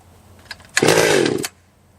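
A Stihl or Echo top-handle chainsaw running low on gas gives a brief, loud engine burst of under a second. The burst rises and then cuts out abruptly, with a faint sputter just before it and quiet afterward.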